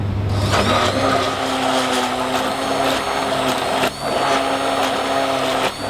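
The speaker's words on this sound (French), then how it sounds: "Donc une fois notre crème cuite, nous allons la mixer." A blender purees cooked pumpkin soup, whirring loudly and steadily for several seconds, its motor pitch holding constant with a brief dip near the end, no voices.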